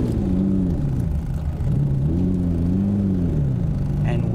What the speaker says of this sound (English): this is the first drive after basically doing a major service on this car